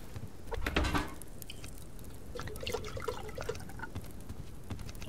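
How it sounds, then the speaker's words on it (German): Water trickling and dripping as bottles are filled at a tap in the survival game Subsistence, a steady liquid wash with small drips, moderately quiet and alone. "hol mir mal meine Flaschen voll Wasser. An unserem Wasserhahn"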